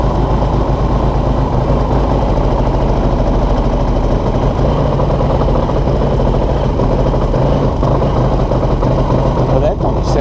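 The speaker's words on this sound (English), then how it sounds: "What's with that motor?" A Linhai Big Horn 400 UTV engine with a crank and spark fault runs roughly at a loud, close, uneven idle, steadily chugging throughout.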